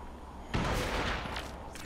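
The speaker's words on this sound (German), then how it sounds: "Ein Schuss vom Scharfschützen und ich war weg." A sniper rifle shot in the shooter game Crysis: a single sharp, loud blast followed by a sustained rumbling tail, heard alone with no talk.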